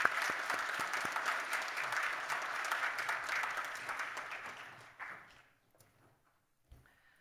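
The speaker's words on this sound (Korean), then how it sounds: "축하의 박수 한번 드리겠습니다." A church congregation applauds for scholarship students during a Sunday worship service, a dense steady clapping that holds for about five seconds before fading away, followed by scattered small noises.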